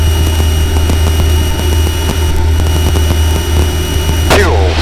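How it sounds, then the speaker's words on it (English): A helicopter taking off from runway 26 gives a loud, steady engine drone with a tonal turbine whine that holds throughout, and a brief sweeping burst comes near the end. "Taking off, helicopter Juliet Charlie."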